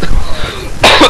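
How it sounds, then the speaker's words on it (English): A harsh cough blasted straight into a microphone during a StarCraft match commentary, one loud, close, distorted burst at the end, preceded by a brief muffled clearing sound. "I'm sorry, I coughed most likely directly into Mike"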